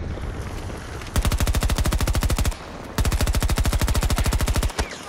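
Automatic machine gun fire in Battlefield 2042, two rapid sustained bursts of evenly spaced shots, loud and close, separated by a short gap, with a final lone shot.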